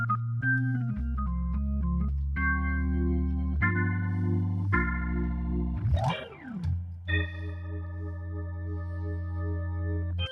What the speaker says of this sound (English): Well, the big new thing is the new H4 organ.